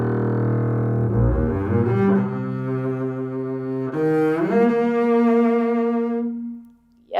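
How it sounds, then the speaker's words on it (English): A double bass played by an Oregon Symphony bassist, sounding as sustained low bowed notes that shift pitch in a slow melodic line, rich and close, alone without talk. "I play the double bass, and it sounds like this."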